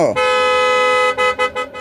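A car horn blares outside at night, first in one long, steady honk and then in a few short, quick toots, loud and close.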